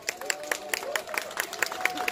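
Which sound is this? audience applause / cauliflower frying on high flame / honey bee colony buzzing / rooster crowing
audience applause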